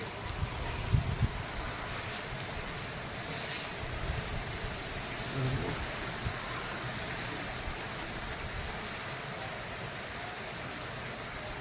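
Evening rain falls steadily outdoors among trees and plants, a soft continuous hiss of drops with a few faint knocks, even and unbroken throughout.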